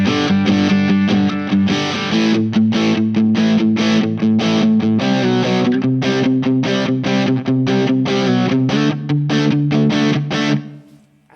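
A Fender Telecaster electric guitar played through a Solo RAT distortion pedal, loud and saturated with dense rhythmic chords and short choppy stops throughout, fading out at the end; no talking.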